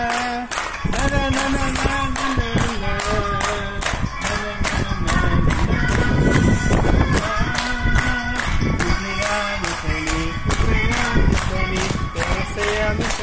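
Rhythmic hand clapping from a small group of people at a child's birthday celebration for a girl named Elsa, steady and close, with a melody sung over it and some talk mixed in.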